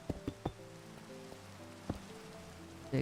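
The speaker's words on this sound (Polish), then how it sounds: "Tak, jeszcze pada." Light rain in Minecraft patters softly with scattered drops tapping a surface, quiet and steady amid faint tonal background sounds.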